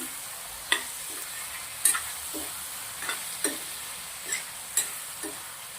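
A taro and moong dal snack is mixed in a pan over a gentle sizzle, with a spoon knocking and scraping the pan about seven times at an irregular pace, close and clear, without speech.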